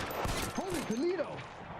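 Gunfire in the L.A. Noire video game, a short burst of sharp shots heard under a voice talking over the game.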